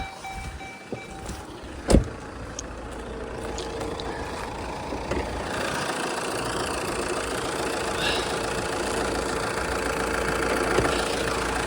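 A 2012 Fiat Freemont AWD with a 2.0 Multijet diesel idles under the hood, a steady low engine rumble with a sharp clack near the start and faint background noises over it.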